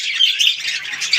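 Pet birds kept in a cage squawk loudly and harshly in overlapping bursts, close up with no talking underneath.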